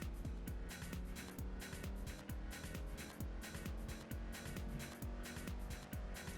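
A Volvo race car in the Gran Turismo 4 video game drives at speed, its engine note rising and falling with rapid gear changes and repeated rhythmic thumps, fairly loud and with no talk over it.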